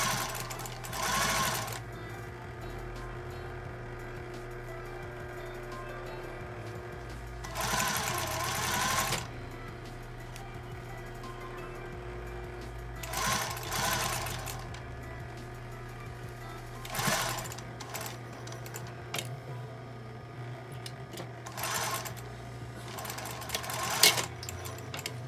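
Sewing machine stitching a seam on a shirt-style blouse, sounding as five separate runs of rapid mechanical chatter with quieter gaps of low hum between them, close but fairly soft, with no speech.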